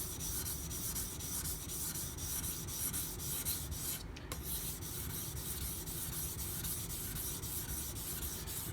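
Karaku Bunka Aogami #1 knife being thinned on a whetstone with light pressure, giving a steady, continuous close scraping rub in even back-and-forth strokes.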